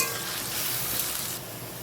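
Potato pieces fry in hot mustard oil with salt and turmeric, a continuous close sizzle with the scrape and rustle of stirring and no talk.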